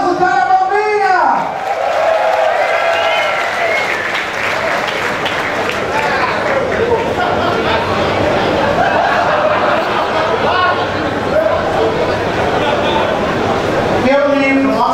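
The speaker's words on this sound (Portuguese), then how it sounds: "Aplauso para a bombinha!" A crowd at a 2018 Arraiá festa junina show at Blue Space breaks into sustained, dense applause for about twelve seconds, with a few chuckles, framed by a speaking voice at the start and end.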